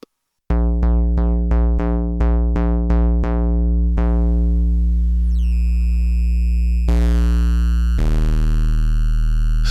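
Dreadbox Artemis synthesizer plays a bassy pulse patch through distortion: a quick run of repeated plucked notes, then sustained buzzing tones that shift pitch and grow harsher and more gritty, loud and alone.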